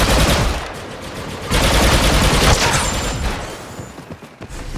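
Rapid automatic gunfire in the Star Wars Battlefront 2 beta on Naboo, a dense sustained stream of loud blaster bursts with heavier surges and fading volleys, no talking.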